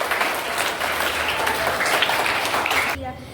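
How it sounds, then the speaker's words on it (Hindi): Loud school audience applause at a Hindi Day event, a dense wash of clapping that holds steady for about three seconds and then cuts off abruptly. "एक बार जोरदार तालियां"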